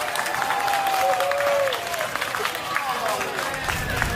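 Airplane passengers clap and cheer inside the cabin as a woman is removed from the flight, a dense steady applause under overlapping chatter and voices.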